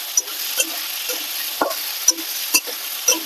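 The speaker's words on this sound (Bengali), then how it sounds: "লবণ দিয়ে আলুটা ভালো করে ভেজে নেব।" Potatoes fry with salt in a pan, giving a soft continuous sizzle broken by several sharp, evenly spaced scrapes of stirring close by.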